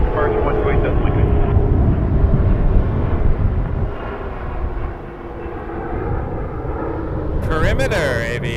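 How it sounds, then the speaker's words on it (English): A Perimeter Aviation Dash 8-300 turboprop drones steadily with a dense engine roar and layered propeller hum, dipping briefly midway before returning, while a radio voice briefly cuts in near the end. "Perimeter Aviation, this is a Dash 8-300"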